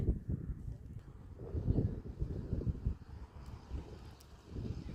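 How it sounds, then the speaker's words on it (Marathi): Wind gusts across the Kas plateau near Satara, a continuous low buffeting roar that swells and eases against the microphone, close and fairly loud with no voices. "साताऱ्यातला रम्य ठिकाण कासरोड किती छान आहे. मस्त वारा आहे."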